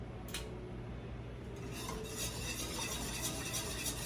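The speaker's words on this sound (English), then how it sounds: "Whisking constantly." A whisk stirs apple jelly in a metal pot over high heat, a quiet, steady scraping and clinking against the pot with faint simmering underneath, close and continuous.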